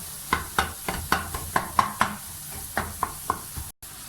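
Eggs stir-fried and broken up keema-style for an omelette, a spatula tapping and scraping the pan in about a dozen sharp, evenly spaced strikes over a low sizzle, close and clear, with no talking.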